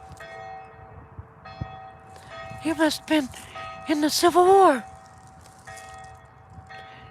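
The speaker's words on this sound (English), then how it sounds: "the church bell." A church bell rings in the distance during a cemetery walk in Middle Tennessee, several tonal strokes in two clusters partly overlapped by people talking nearby.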